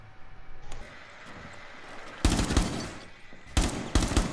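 LMG machine gun fire in Rainbow Six Siege, two loud close bursts of rapid automatic shots after a quieter stretch of game ambience.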